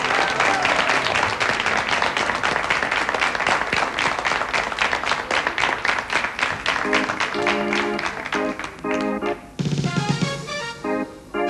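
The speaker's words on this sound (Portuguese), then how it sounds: "Um vosso aplauso para Mr. Money!" A television studio audience applauds loudly and continuously for a performer on a Portuguese variety show, dense clapping that thins slightly near the end.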